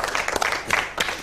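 A short burst of television studio audience clapping, scattered hands applauding together for about a second.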